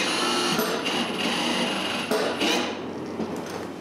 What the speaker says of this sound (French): Quand les 4 sont vissés, je visse les 4 autres pentures 2 par set de pattes.